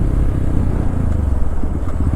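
Naked sport motorcycle engine running steadily while riding, a loud continuous low rumble close up with faint clatter, no voices over it.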